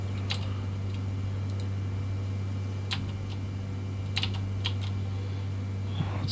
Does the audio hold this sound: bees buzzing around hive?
no